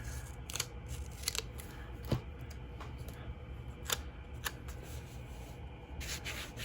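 Scissors snipping paper while setting up pages in a Sterling Ink B6 Common Planner, with several sharp, brief cuts spread over a soft, steady background rustle, close and fairly quiet.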